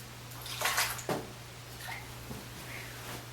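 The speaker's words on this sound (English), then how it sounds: "gonna build the face lather" A shaving brush works soap lather on a face, giving a couple of short wet swishing bursts near the start, then quieter faint brushing, close by and without speech.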